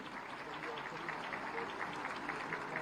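Audience applause at a women's award and honouring ceremony fills a hall, a faint, distant, even patter of clapping that continues steadily throughout.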